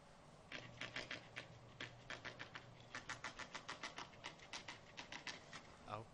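An old printer in The Longest Journey video game chatters through a rapid series of sharp mechanical clacks in uneven bursts, faint but distinct, with a low hum under the first stretch.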